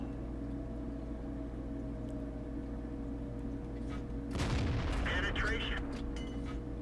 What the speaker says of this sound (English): that Chiri is really unloading into him